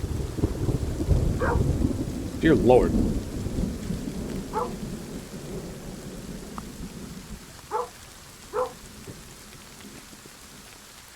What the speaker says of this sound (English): That thunder shook the house.